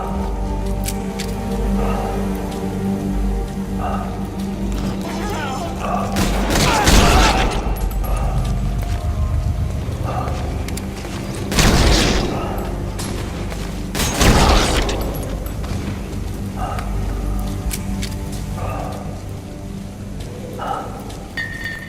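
Gunfire in Metal Gear Solid V comes as a few heavy, booming bursts spaced several seconds apart over a dense, continuous background of music and effects.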